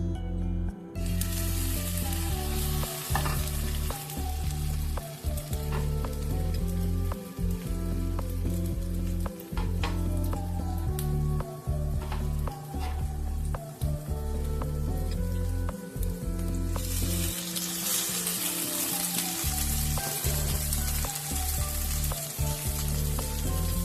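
A dipped French toast roll frying in olive oil, a continuous close sizzle with crackling pops and occasional spatters, alone and steady throughout, with the hiss brightening near the end.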